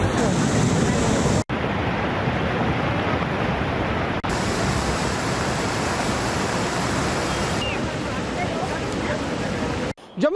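The Munawar Tawi river in Rajouri, swollen and in spate after heavy rain, roars as a continuous loud wash of rushing water with wind buffeting the microphone.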